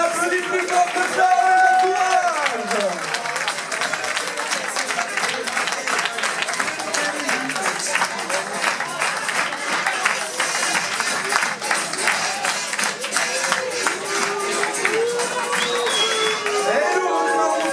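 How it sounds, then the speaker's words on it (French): A large crowd applauds continuously, dense clapping with cheering voices mixed in, steady and loud throughout. "Allez, allez, on applaudit plus fort que ça."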